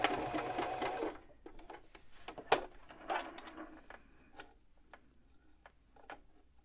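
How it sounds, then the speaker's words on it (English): A sewing machine runs at speed stitching face mask fabric, a fast mechanical whir, then stops, followed by scattered ticks, clicks and knocks of the machine and the handled cloth, close and fairly quiet. "Sew all the way down and stop. You're going to back stitch."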